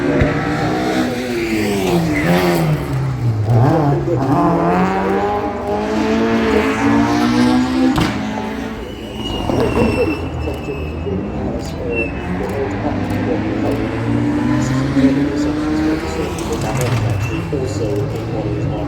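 A Mark II Ford Escort rally car driven by Jimmy McRae revs hard and drifts through a slow corner on a rally stage, the loud engine note rising and falling with each gearchange under steady commentary, with birdsong faint in the background.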